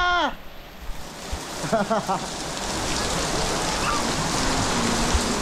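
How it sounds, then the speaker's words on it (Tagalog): Heavy rain pours steadily onto people bathing outdoors in a neighbourhood, a broad constant wash that builds and holds, with excited voices shouting and calling out over it near the start. "Ligo na ulan!"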